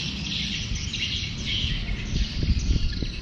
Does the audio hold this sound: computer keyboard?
no